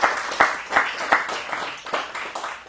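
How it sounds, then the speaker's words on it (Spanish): Congregation applauding in church after a Bible study, a short burst of rhythmic, fairly close clapping with distinct repeated claps over a few seconds. "Un aplauso,"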